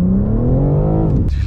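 A BMW M3 Competition accelerates hard at full throttle in sport mode, its engine note climbing steadily and loudly from inside the car before a sharp gear change cuts in near the end.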